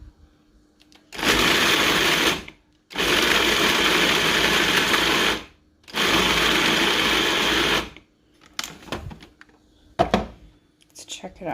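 Food processor blending tilapia ceviche in three loud, steady pulses lasting a couple of seconds each, separated by brief gaps, followed by scraping and clattering handling sounds.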